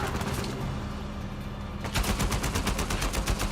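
Automatic gunfire in the video game Uncharted 4: a dense, continuous stream of loud shots that turns into a sharper, rapid volley of evenly spaced bursts partway through.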